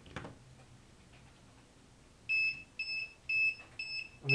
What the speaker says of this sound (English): The bell is now ringing.